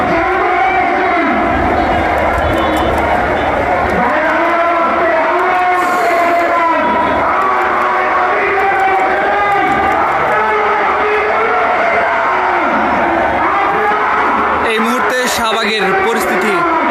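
A huge crowd at a student leader's funeral makes a loud, unbroken roar of massed voices and chanting that fills the whole stretch without pause.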